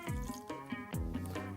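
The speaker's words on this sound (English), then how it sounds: "What I now want to do is pour on the water." Between 50 and 75 millilitres of water poured into a small container, giving a short run of bright dripping, splashing trickles close by.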